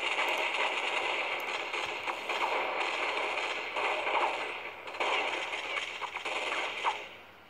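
Gunfire in the video game Counter-Strike 1.6: dense, steady rattling shots blend into a loud, bright wash of noise with a few sharper cracks, continuous throughout and without talk.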